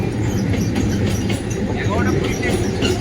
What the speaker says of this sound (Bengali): আর ট্রেনটাও ঢুকে গেছে দেখছি